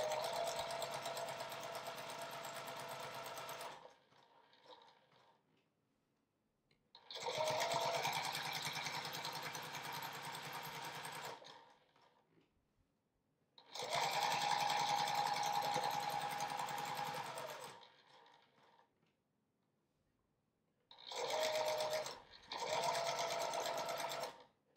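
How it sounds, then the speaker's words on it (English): Sewing machine stitching around the edge of a quilt project, running in four loud sustained bursts of steady motor whir with short quiet pauses between, alone with no talk. "I sewed all the way around here except at that little opening that I left to turn this"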